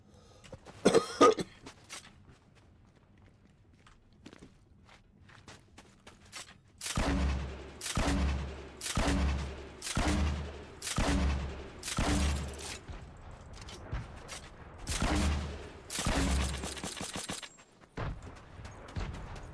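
Game gunfire from a weak gun in Fortnite: a run of about nine loud, evenly spaced shots in the second half, with a quiet stretch and faint noises before them.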